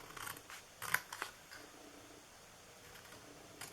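Scissors snipping down the sides of a paper Easter basket, a few short crisp cuts clustered near the start, then near quiet with one more snip at the end.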